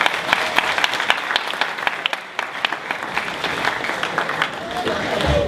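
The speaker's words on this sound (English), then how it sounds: "give a round of applause for Coach RIX" A crowd at a 2014 AAU National Tournament gathering applauds Coach RIX, with dense, fairly close clapping that holds for a few seconds and briefly dips partway through, while voices carry underneath.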